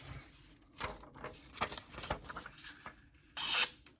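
Freshly sharpened Manix 2 pocketknife blade slicing through paper gives a series of short, crisp rasping swipes, quiet at first, then one sharper, louder cut near the end.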